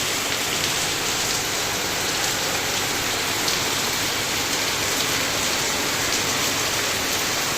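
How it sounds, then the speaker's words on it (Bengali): Heavy rain pouring down in a dense, steady hiss, close and loud, with no pauses or voices throughout. "এই দেখো কত বৃষ্টি হচ্ছে।"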